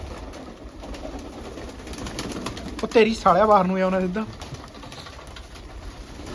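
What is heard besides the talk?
pigeons cooing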